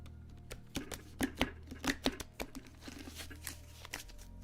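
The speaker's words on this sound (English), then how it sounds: "Needs to be properly shuffled." A deck of playing cards is riffled and shuffled in a run of crisp, papery bursts, some sharper snaps among softer crinkles, close up over a low steady hum.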